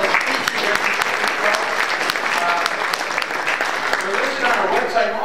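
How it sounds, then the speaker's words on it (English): Applause from a luncheon audience at a chamber of commerce event fills the room, steady dense clapping that continues evenly at a fairly loud, close level throughout. "So let's give everyone a round of applause."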